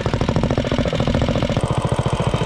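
A Predator 212 small engine with a wide 80-thousandths coil gap runs steadily at high revs, a loud, close, rapid buzzing putter that holds constant without talk.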